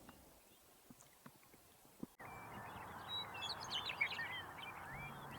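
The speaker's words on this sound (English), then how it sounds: "We picked up a number of pretty western meadowlarks singing their beautiful song" Western meadowlarks singing in California, with several clear, fluting, warbled phrases. The calls come in over a rougher background after a few faint clicks and knocks at the start.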